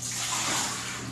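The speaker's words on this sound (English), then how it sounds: "Dump out the water." Hot water poured out of a glass canning jar into a sink, a brief continuous splashing gush, close and fairly loud.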